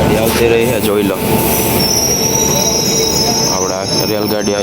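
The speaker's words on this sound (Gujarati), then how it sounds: "રેલગાડી આવતી રહી છે, જોઈ લો." A train pulls into a station in Bhavnagar, its wheels squealing sharply on the rails in long high-pitched shrieks over a constant loud rumble of moving railcars.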